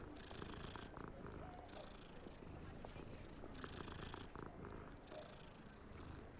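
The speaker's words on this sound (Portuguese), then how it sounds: "Meu Deus, é só gatinhos" Kittens purring in Hogwarts Legacy make a soft, continuous rumbling purr that runs steadily throughout, faint and close, with no one talking.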